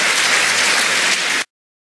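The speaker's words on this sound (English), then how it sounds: "yet his parishioners still applauded" A lecture audience at Hillsdale College breaks into loud, dense applause, a close, even wash of many hands clapping that stops abruptly after about a second and a half.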